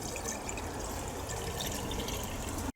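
Water running steadily while a watering can is rinsed outdoors on a frozen winter day, a close, continuous splashing trickle that cuts off abruptly at the end.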